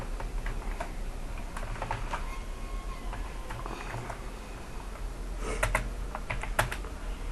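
Fingers type steadily on a computer keyboard, producing soft, close clicking keystrokes in irregular runs over a quiet room hum, with a brief cluster of sharper taps near the end and no talking.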